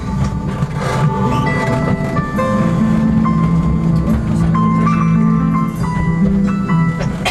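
Train at the End of the World station in Tierra del Fuego, a steady loud rumble of rolling stock with squealing, tonal wheel or brake whines sustained throughout, no voices.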